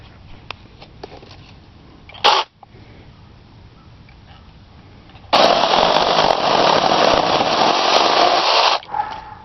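A 6-inch-blade rechargeable mini chainsaw cutting, a brief high whine burst followed by a loud, steady sustained cutting run of about three and a half seconds, nearby and alone.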